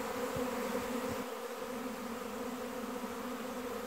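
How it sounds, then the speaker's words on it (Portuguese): A swarm of honeybees arriving at a beehive in an apiary, a steady faint buzzing drone with a few brief louder passes from nearby bees. "Enxame está chegando a uma das colmeias que estava a povoar."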